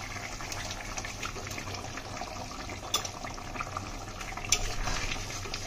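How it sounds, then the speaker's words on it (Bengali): Egg curry broth boiling in a pot on the stove gives a steady, moderately quiet bubbling hiss, with a couple of sharper pops rising above the simmer and no talking. "ঝোলটা ফুটে গিয়েছে"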